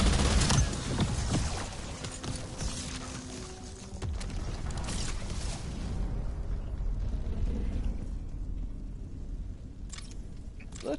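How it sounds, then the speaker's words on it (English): A high fire rate gun firing two bullets at once in a Call of Duty Black Ops 7 Zombies match: a dense, rattling stream of rapid shots, loud at first and then thinning to scattered bursts near the end. "Because it's shooting 2 bullets at once."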